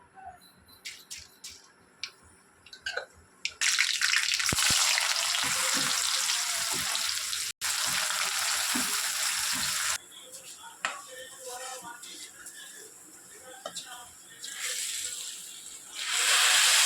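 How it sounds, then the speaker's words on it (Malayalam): Mustard seeds spluttering in hot coconut oil, a loud broadband sizzle that starts abruptly and holds steady with scattered crackling pops, dropping back briefly before surging again. "വെളിച്ചെണ്ണ ചൂടായിട്ടുണ്ട്. നമുക്കിനി കടുക് ഇട്ട് കൊടുക്കാം."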